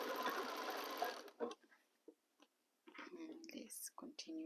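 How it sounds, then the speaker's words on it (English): A sewing machine stitches rows of quilt fabric at a quarter-inch seam, running steadily for about a second before dropping to soft handling noises, short whirring bursts and quiet whispered talk. "As usual, we sew using a 1/4 inch seam allowance."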